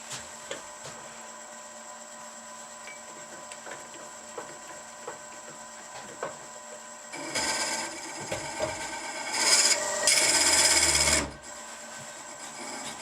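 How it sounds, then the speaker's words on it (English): A drill whirs briefly into wood for a pepper mill, with a louder grinding burst near the end, after a stretch of quiet scraping and tapping. "So I would drill up to this line here."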